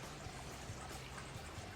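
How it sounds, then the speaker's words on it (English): A babbling brook on a mountain trail, steady rushing and trickling water close by, continuous and even throughout with no voices. "crossing that babbling brook that you hear"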